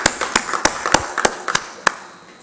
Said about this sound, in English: So I'd like each one of you to clap for yourselves